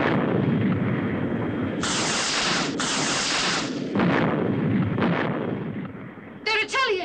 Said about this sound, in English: The missiles are bursting well clear.